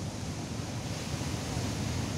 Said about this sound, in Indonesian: Suasana Pantai Ngudel,